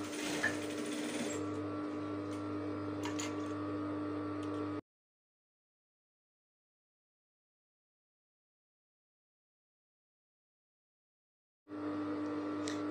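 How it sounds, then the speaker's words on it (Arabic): A sewing machine stitches a fabric hair scrunchie with a close, steady whirring run, stops for several seconds of silence, then starts stitching again. "هي سنتيم تقريبا هو اللي غادي نخيطو"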